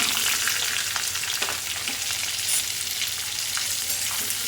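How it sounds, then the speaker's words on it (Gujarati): Stuffed brinjals are stirred into hot oil seasoned with mustard seeds, ajwain and turmeric in a kadhai, giving a steady crackling sizzle with scraping stirs over it and no talk. "હવે રીંગણ મિક્સ કરી લઈશું।"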